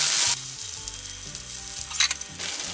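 Sausages sizzle in a hot pan for toad in the hole, with bright bursts of hiss at the start and end and a quieter crackle between, over soft background music.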